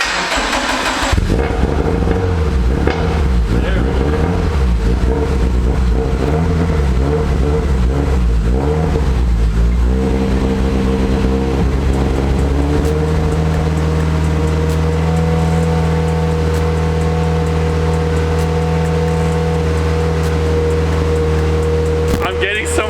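A Nissan 370Z with a swapped VR30 engine revs hard in repeated bursts, then settles into a loud, throaty idle close by, with voices faintly underneath.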